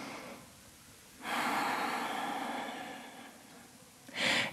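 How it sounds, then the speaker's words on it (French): A deep breath during a vinyasa yoga session: a quiet, airy inhalation swells for several seconds and fades, followed by a brief sharper breath at the end, with no talking. "Une grande respiration ici."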